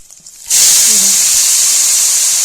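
Shredded cabbage hits a hot pan with peanuts and sizzles sharply, a loud sustained hiss starting abruptly and holding steady, with faint low talk beneath.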